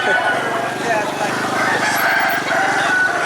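A rooster crows loudly and close at a busy chicken market, one drawn-out call over a dense bed of other fowl clucking and people talking in the background.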